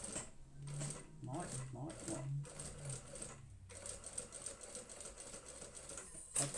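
A sewing machine stitches a handbag zipper placket in bursts of rapid, rhythmic needle chatter, stopping and restarting, with a brief spoken remark partway through.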